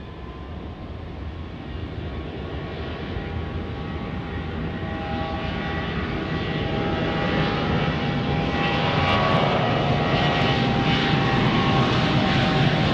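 An airplane takes off from Dallas Love Field during rain and thunderstorms, a steady, loud engine roar that swells gradually over the whole stretch, with no voices.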